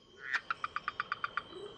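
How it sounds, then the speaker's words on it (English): A rainforest frog gives a quick run of about ten evenly spaced croaks, a sharp, rhythmic trill standing clearly above a soft, steady insect-like background hum. "Frogs protected here include the famous red-eyed leaf frog"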